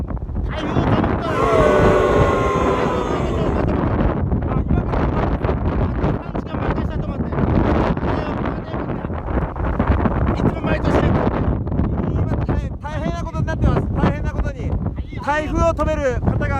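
Strong typhoon wind roars and buffets a microphone outdoors in Japan, a loud continuous gusting rush with people talking over it throughout.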